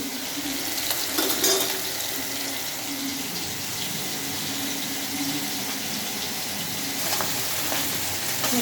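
Curry sautéed in a pan, a continuous sizzle with scraping stir sounds and a few clinks, close and steady throughout with no voices.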